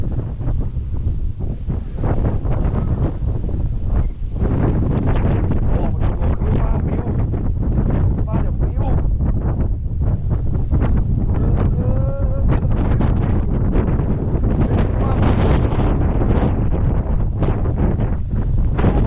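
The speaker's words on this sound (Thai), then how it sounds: "ลมแรงมาก" Strong wind batters the microphone at a lakeside tent campsite at The Lake View, Pong Din Dam, Bang Phra, a loud, constant roar and rumble with gusting buffets throughout.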